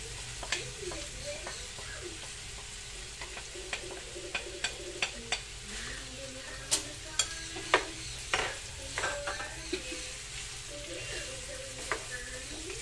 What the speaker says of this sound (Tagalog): Gisa-gisahin lang natin ng konti. Puro patatas.